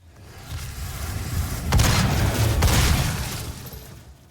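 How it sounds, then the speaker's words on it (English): Explosions from exploding drums in the 2016 Doom video game: a rumbling low boom builds, then two sharp bursts land about a second apart, each trailing into broad crackling debris and sustained roar. "Explosions seem to be my worst enemy."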